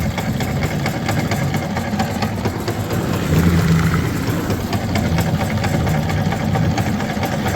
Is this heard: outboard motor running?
yes